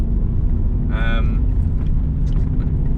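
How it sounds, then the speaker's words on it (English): Low, steady grumbling rumble from a worn front passenger wheel bearing on a Subaru Legacy Turbo, heard as continuous road-speed drone inside the moving car, with a brief faint tonal sound over it. "the other thing that's noisy is the front passenger wheel bearing, the bearing on it. It's quite grumbly"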